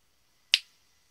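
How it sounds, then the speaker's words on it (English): A single crisp finger snap rings out once, sharp and close, in otherwise near silence. "I'm just going to snap my fingers"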